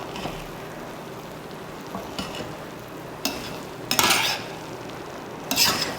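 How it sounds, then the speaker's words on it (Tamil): A spoon stirs soya biryani in a pot, producing a few soft scrapes and rustles and then louder grainy clattering bursts near the end over a low steady background. "இப்போ கிளறி விட்டுக்கலாம்"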